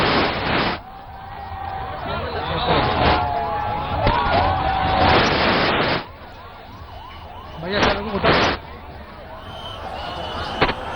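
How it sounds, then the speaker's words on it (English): Emergency sirens wail in repeated rising and falling sweeps during a political visit in Kashi, moderately loud and fading in bursts, with voices talking over them. "I can hear, the sirens in the background"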